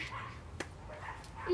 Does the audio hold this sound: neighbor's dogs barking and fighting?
yes